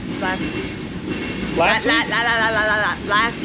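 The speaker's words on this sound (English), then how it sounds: "this train somewhere. is so loud." A loud train rumbles nearby, with squealing metallic wheel tones rising over the steady rolling noise.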